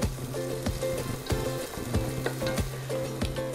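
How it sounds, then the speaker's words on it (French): Onion and garlic fry in hot oil in a large pot, a steady close sizzle broken by bursts of stirring and scraping throughout, with no voice. "on va ajouter l'oignon et l'ail pour le faire tomber"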